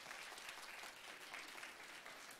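Steady applause from a school audience at a youth humanities concert in a high school, honouring a magician; dense, even clapping throughout, moderately distant and without voices.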